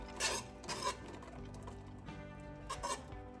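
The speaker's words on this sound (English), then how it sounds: "So I'm gonna add the first cup or so slowly while whisking at the same time." Liquid being whisked into a mac and cheese sauce in a pot, faint metallic clinks and scrapes arriving in a few quick bursts against a quiet kitchen background.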